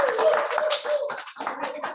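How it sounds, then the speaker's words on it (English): Audience applause at a sabbatical presentation, a dense, steady burst of many hands clapping together for about two seconds, fairly loud and continuous with no voices over it. "can we give her a round of applause for helping"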